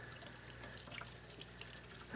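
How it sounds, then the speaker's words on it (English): Mushrooms are brushed and rinsed under a running kitchen tap, a steady close hiss of flowing water splashing into a sink with faint drips throughout. "I'm going to brush and wash them under running water"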